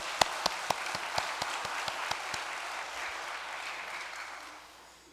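A church congregation claps together, starting with a few sharp individual claps that give way to a steady, moderately loud wash of applause, which fades toward the end.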